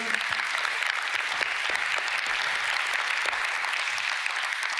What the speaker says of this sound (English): Big round of applause for Gabriel Massan.